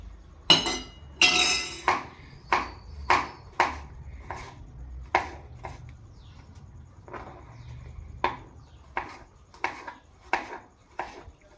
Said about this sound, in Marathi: त्याचा मी अगोदर टोमॅटो कट करून घेते.